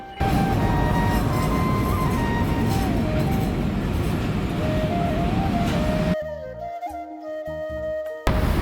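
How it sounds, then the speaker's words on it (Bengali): A train pulling into Hi-Tech City railway station: steady rolling rumble with drawn-out squealing tones from the wheels, which cuts to a quieter stretch of clanking and hum after about six seconds. "ট্রেন এসে পৌঁছালো"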